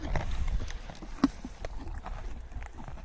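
A pony's hooves clip-clop a few times on hard ground, close but fairly soft, with one sharper knock partway through and a person's voice nearby.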